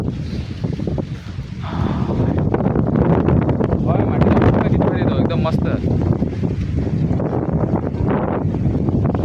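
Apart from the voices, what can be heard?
wind blowing before the first monsoon rain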